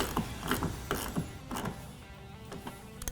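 A ratchet snugs down the nut on a car's windshield wiper arm with a quiet run of short, uneven mechanical clicks.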